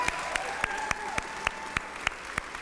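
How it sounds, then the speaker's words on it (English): Applause at a voter registration rally in Louisville, Kentucky, where the crowd claps in an even, rhythmic beat with a sharp accent roughly every quarter second over a softer wash of scattered clapping. "Give them another applause."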